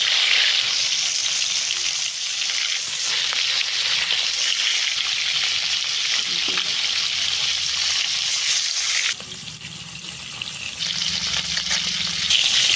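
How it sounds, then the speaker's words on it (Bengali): Fish frying in hot oil in a kadai, a loud continuous sizzle and crackle that holds steady throughout, shifting slightly in tone partway as the pieces settle. "এবার এক এক করে মাছ এর মধ্যে দিয়ে ভেজে নেব।"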